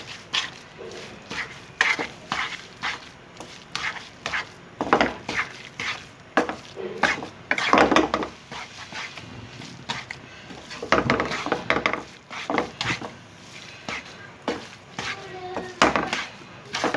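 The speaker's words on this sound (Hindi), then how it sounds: "इसको मैं अच्छी तरह मिक्स करूंगी।" A besan burfi mixture is stirred and scraped in a pan, giving repeated soft scraping and knocking strokes in an uneven rhythm, close by and moderately loud throughout.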